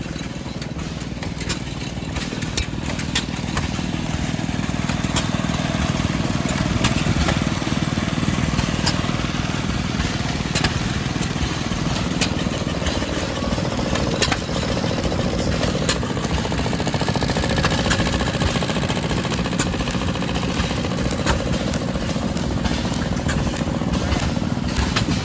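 An antique Maytag Model 92 engine with a muffler running at an outdoor antique engine show, a steady, rapid, close putter with light mechanical clatter that holds unchanged throughout.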